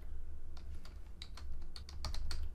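Rapid, uneven keystrokes on a computer keyboard as a file name is typed, close and crisp over a steady low hum, with no speech.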